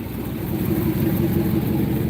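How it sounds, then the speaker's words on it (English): A car engine with an exhaust leak and a stall converter idles close by with a steady low rumble and a rough, puttering tick running through it. "you can definitely hear it's got a exhaust leak"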